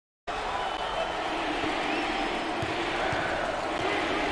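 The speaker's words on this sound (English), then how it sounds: "the home fans are going crazy" Basketball arena crowd at a 2021 NCAA Tournament first-round game, North Carolina against James Madison, with a sustained dense roar of cheering and applause starting abruptly and holding steady throughout.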